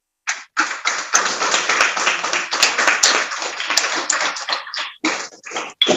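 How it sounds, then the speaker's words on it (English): A crowd at a grand opening event in London bursts into sustained applause, dense clapping that carries on for several seconds with a brief lull before picking up again. "a big round of applause"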